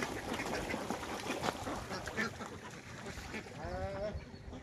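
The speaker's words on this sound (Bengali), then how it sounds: "এই যে হাঁসগুলো কত সুন্দর করে পানি থেকে ভেসে বেরোচ্ছে" Ducks quack from the water at a low-cost duck farm where a flock swims out and is fed snails from a boat, several short nasal calls near the end over faint ambient noise.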